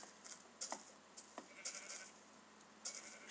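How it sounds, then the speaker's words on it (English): Sheep in Minecraft bleat in several short, quiet calls scattered over a faint background, with brief clicks between them. "How dare you eat stuff, sheep?"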